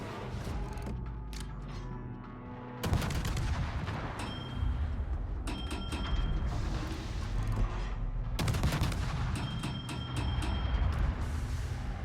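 Naval guns of the French tier-nine destroyer Mogador fire in a video game, sharp booming reports and rattling salvos repeating over a constant engine and water rumble, loud and close.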